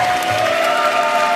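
A large audience applauds at a barista championship, a dense, loud, continuous wash of clapping with some cheering, heard briefly and alone.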